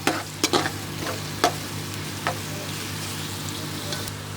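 Chopped onions soften in hot oil in a pan, a close steady sizzle with a few sharp clatters of a stirring spoon near the start, then the frying continues alone with no talking.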